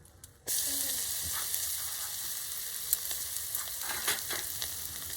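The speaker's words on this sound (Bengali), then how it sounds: "রসুন কুচিটা দিয়েও আমি একটু নেড়ে নিলাম" Chopped garlic hits hot oil with bay leaf and black pepper and bursts into a loud, steady sizzle after a brief quiet start, with a few faint stirring knocks and no voices.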